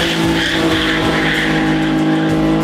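A dragster race car at a street race in Živinice roars loudly and steadily at close range, a dense, continuous engine drone with a pulsing low rumble and no voices.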